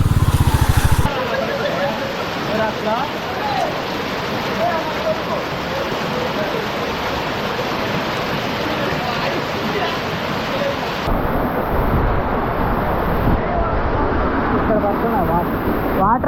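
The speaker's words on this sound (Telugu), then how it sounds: "వాటర్ అయితే ఇక్కడ పడుతున్నాయి." Water pours down at Penchalakona waterfall, a loud, dense, continuous roar that fills the whole clip with only slight shifts in texture, close by and with no clear voices over it.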